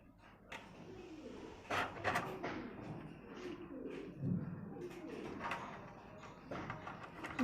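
Pigeons on a small pigeon farm cooing on and off, close by, with soft low calls scattered across the clip amid a few faint thumps and light handling noises.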